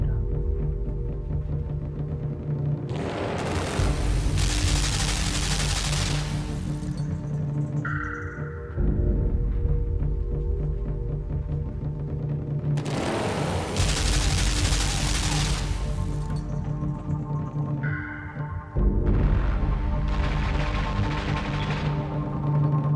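Gunfire in the video game LIMBO comes as long, loud bursts of rapid shots lasting a few seconds each, separated by quieter rumbling gaps, repeating several times with no speech.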